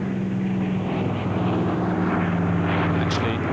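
A vintage propeller airliner, the last one built and hand-finished while the line was making DC-6s, delivered to South African Airways in 1947, drones steadily overhead during an airport flypast, a constant propeller hum with a public-address voice over it.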